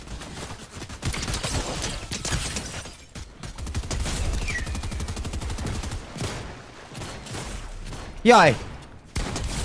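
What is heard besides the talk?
gunfire in the video game Fortnite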